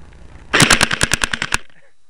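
An airsoft gun firing white beads lets off a rapid burst of about ten sharp, loud, close shots in a quick even rhythm, with a short quiet lead-in and no talk.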